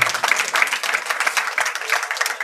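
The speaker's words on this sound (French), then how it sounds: "Et applaudissez encore pour elle." Audience at a summit panel presentation applauds, a dense, steady wash of clapping heard close and alone for a couple of seconds.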